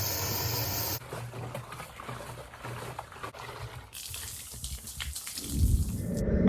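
Liquid sloshes and pours as the fuel tank of a Suzuki LT80 Quadsport ATV is flushed, a rough, uneven gurgling wash that shifts in tone and swells louder toward the end.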